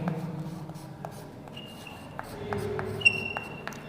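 Chalk or marker scratching on a board during a geography lecture, with several short strokes and taps in a quiet classroom room tone, no voice heard.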